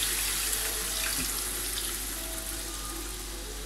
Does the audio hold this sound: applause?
no